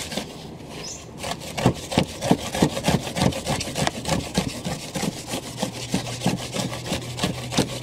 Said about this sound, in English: This is the coir block that we're going to shave down.